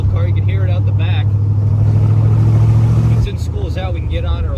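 A 1967 Chevrolet Corvette with a 4-speed manual idles with a deep, steady exhaust rumble heard from the rear, then the tone drops and thins after about three seconds as the engine note changes.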